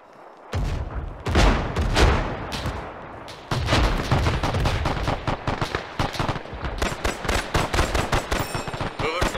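Gunfire in the video game ArmA 3 during a historical campaign battle: sustained volleys of rifle and machine-gun shots with booming reports, some close and loud, others in rapid bursts, continuing almost without pause.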